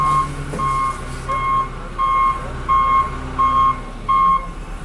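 A dump truck and front loader work at blizzard snow removal on a street in East Boston, with loud regular reversing beeps pulsing over a steady diesel engine rumble.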